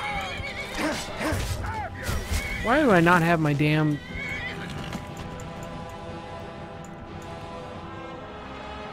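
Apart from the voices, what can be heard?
horse neighing in video game Skyrim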